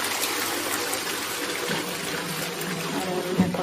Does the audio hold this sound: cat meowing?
no